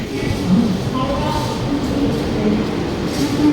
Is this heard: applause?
no